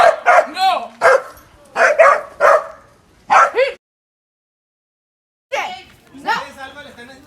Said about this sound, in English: I don't really like this dog. He bites.